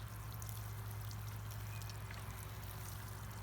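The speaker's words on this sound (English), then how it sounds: "I will just water this in" Liquid high-nitrogen fertilizer water is poured over baby lettuce growing in containers, a soft, steady, quiet trickling wash that runs without a break and with no talking.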